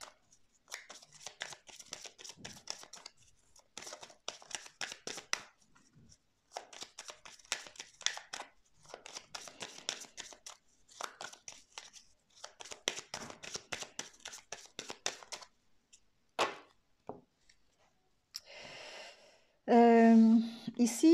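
Oracle cards are shuffled and cut in dense flurries of crisp riffling and handling, with short pauses and a voice that breaks in near the end.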